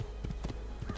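Quick, regular clip-clop of a horse's hooves trotting in Assassin's Creed 2, steady and fairly close, with faint background noise behind the rhythm.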